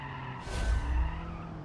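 Corvette tires skidding and squealing as the car understeers in BeamNG.drive, a short swelling screech with a low engine rumble underneath, rising and fading within a second or so.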